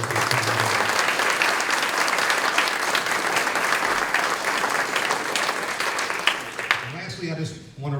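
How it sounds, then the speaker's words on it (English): Sustained applause from the audience at a junior fire academy graduation ceremony, dense and even for most of the stretch, then fading as a voice begins speaking near the end. "let's have a nice round of applause for him"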